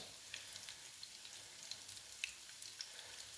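Courgette fritters frying quietly in a pan, a faint even crackle with scattered small pops and spits.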